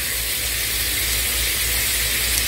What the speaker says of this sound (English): I'm still going to let them sizzle